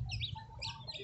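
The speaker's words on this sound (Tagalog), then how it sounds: "Kung meron ba kayong mga alagang manok dyan." A short, soft burst of chicken clucking, a few quick notes close by with no talk.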